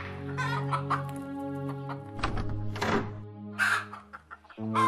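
Chickens in a Bengali animated cartoon clucking and squawking in agitated bursts, several birds close by, with short gaps between the calls.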